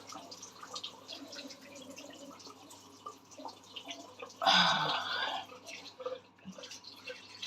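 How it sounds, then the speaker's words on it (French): Lukewarm tap water runs and splashes as it is used to wash the eyes with a small towel, a brief louder gush in the middle amid soft trickling and dripping. "vous allez encore laver les yeux avec toujours de l'eau tiède et votre petite serviette"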